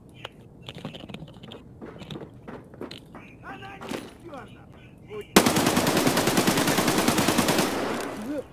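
Gunfire in a game erupts as a loud, sustained rapid burst after a stretch of keyboard tapping and faint clicks.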